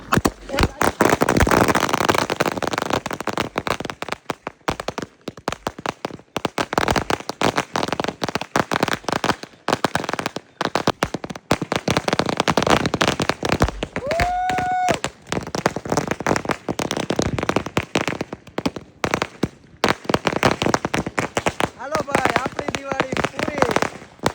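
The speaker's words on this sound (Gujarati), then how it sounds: "હવે લાસ્ટમાં આપણે એક લડી બાકી રહી છે, ફટાફટ ફોડી નાખે" A long string of firecrackers set off during Diwali, a dense, loud, nonstop rattle of rapid bangs and crackles lasting over twenty seconds.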